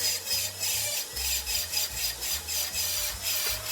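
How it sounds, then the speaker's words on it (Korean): A dental round bur grinds into an ostrich eggshell, used as a model for a sinus lift implant procedure, giving a steady, close rasping whine with a regular pulsing rhythm and no talk. "그 순간이 되기까지 생각보다 오랜 시간을 갈아야 하더라고요, 타조알은"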